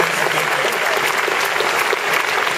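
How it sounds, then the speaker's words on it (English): A crowd at a live PAX East 2011 show applauds loudly and continuously, a thick, steady roar of many hands clapping together with faint cheering mixed in. "Another round of applause for these guys right here"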